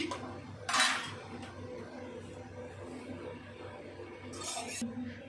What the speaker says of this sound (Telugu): ఒకసారి బాగా కలిపేసుకుని ఒక ఐదు నిమిషాలు కుక్ చేసుకుందాం